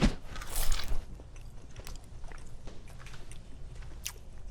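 Close, crunchy biting into crispy homemade shawarma cooked in a home kitchen, followed by steady wet chewing and small crunches, with no talking.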